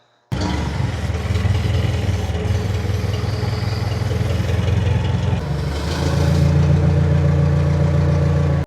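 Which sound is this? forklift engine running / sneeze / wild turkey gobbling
forklift engine running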